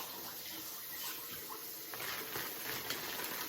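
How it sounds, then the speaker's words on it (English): Tap water running steadily over raw lamb as it is rinsed, a continuous close splashing hiss with no talk. "when I get the lamb, I'm gonna rinse it off"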